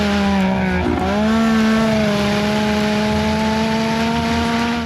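A Stryker UTV race machine roars at high revs up the Pikes Peak hill climb, its engine tone dipping briefly at a shift and then holding a loud, steady, close drone.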